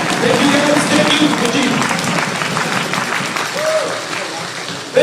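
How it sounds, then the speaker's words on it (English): Audience applause at an investor conference, a steady wash of clapping and cheering from a crowd lasting throughout, with voices mixed in. "Another big round of applause for Tara."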